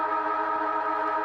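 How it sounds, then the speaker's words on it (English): Football ground siren sounding to end the half at TIO Stadium, a steady sustained tone heard faintly and briefly, with no voices over it. "And the siren goes."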